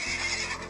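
A horse whinnies in the video game SurvivalCraft, one short loud neigh with steady harmonic layers filling the whole moment, no talk over it.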